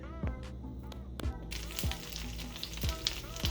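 Salmon with garlic butter sizzles steadily in a skillet on an electric stove, a continuous frying crackle with several sharper clinks and stirs throughout.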